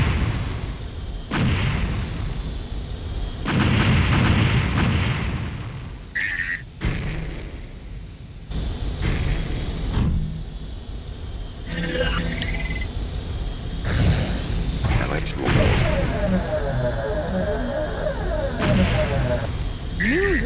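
In the Wipeout 64 racing game, a super weapon fires and explodes with heavy booming blasts, surrounded by electronic whooshes, warbling tones and craft engine noise that come and go across the stretch.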